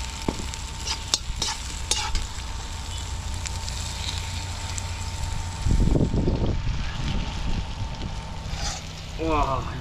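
Dried chili and Sichuan pepper stir-fry in hot oil at a roadside campsite in Tonghai, Yunnan. A steady close sizzle runs with scattered clicks and spatter, and a louder rumbling burst comes in the middle.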